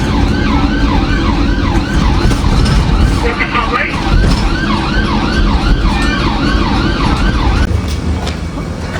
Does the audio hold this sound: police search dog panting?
no